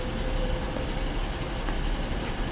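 A Virgin passenger train leaving Wigan North Western station rumbles steadily nearby, a low continuous rolling roar with faint rail clatter throughout.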